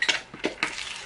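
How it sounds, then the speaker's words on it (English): Meat and vegetable dumpling filling with spring onions is stirred in a pan, three distinct scraping, clinking strokes of a utensil against the pan over a faint sizzle. "just make sure everything's mixed together"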